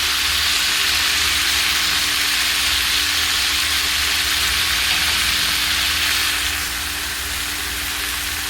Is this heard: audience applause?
no